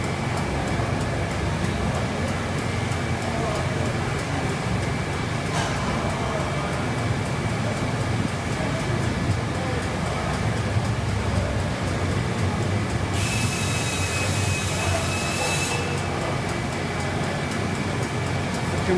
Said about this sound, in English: I'm gonna pop off the valve.